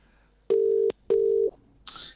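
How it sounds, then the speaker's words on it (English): Two steady telephone dial tones pulse in a clear rhythm while a guest is being called live on a show, followed by a brief higher burst, close and alone with no talk. "This is new for us, dialing someone in live."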